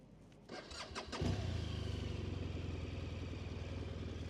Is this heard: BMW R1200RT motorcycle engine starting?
yes